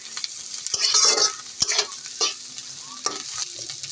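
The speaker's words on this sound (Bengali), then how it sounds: "তেল দিয়ে আমরা এটাকে লাল লাল হওয়া পর্যন্ত ভেজে নেব" Ingredients for coriander leaf bharta fry in mustard oil in a pan, with a steady sizzle and several sharp scraping stirs of a utensil, close and fairly loud.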